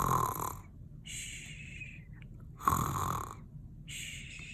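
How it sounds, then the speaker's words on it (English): Goldilocks, a girl asleep in the bears' house, snores twice in slow rhythm, each long rasping inhale followed by a quieter wheezy breath, close and clear with no talk over it. "She even started to snore."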